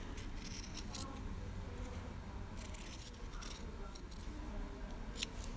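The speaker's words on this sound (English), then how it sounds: "we're just going to trim to about half of our seam allowance" Scissors trim the seam allowance of fabric in a series of quiet, close snips and short cutting strokes over a faint background.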